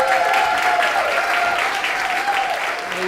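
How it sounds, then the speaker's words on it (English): Warm applause greets a performer taking the stage for a solo theatre show, steady clapping from the house with a faint voice and tonal murmur running beneath it. "Let's give an awesome, warm welcome, giant applause"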